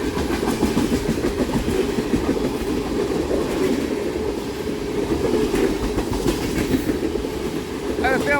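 Freight train of tank cars carrying petroleum and sulfuric acid rolling past on rails, a steady loud rumble and clickety-clack of wagons, with a brief high squeal of wheels near the end.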